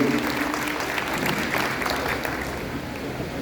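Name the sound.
audience applause welcoming panelist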